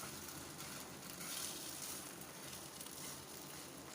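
Egg paratha frying on the second side in a pan gives off a steady, close sizzle with a soft crackle throughout, alone and fairly faint.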